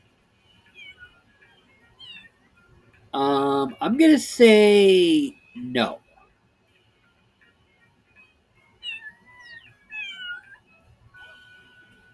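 A cartoon cat meows in the video game Little Kitty, Big City: a loud, drawn-out meowing burst midway, then a few higher, thinner mews later. A person talks briefly nearby.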